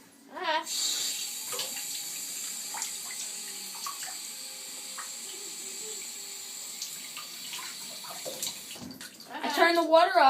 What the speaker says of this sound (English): I turned the water off.